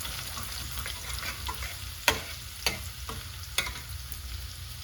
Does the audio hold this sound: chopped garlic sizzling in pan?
yes